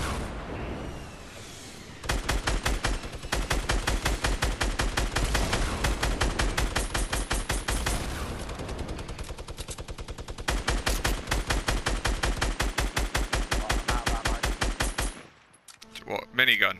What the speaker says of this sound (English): What, minigun?